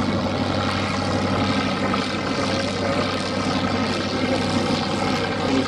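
A Piper Cub propeller aircraft drones steadily overhead at the Duxford air show, its engine a constant, moderately loud buzz with no voices heard.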